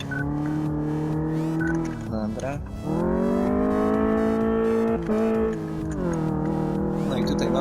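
Engine of a car on a test drive in Car Mechanic Simulator 2014, revving and climbing in pitch through repeated gear changes with dips between shifts, loud and close, while someone speaks briefly.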